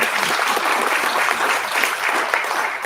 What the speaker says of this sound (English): Give me a round of applause if you had challenges